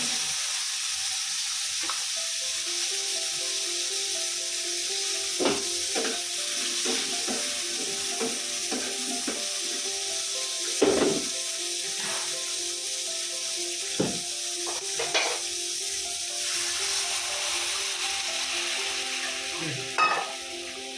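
Chicken being sautéd in a pan, a steady crackling sizzle with repeated scraping stirs and clinks from a utensil, recurring clearly across the whole stretch.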